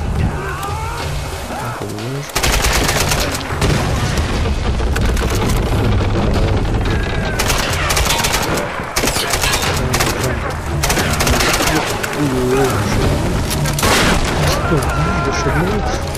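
Game gunfire in Tomb Raider, with dense bursts of shots and booms over loud, busy game sound that runs through the whole stretch; a voice talks over it now and then.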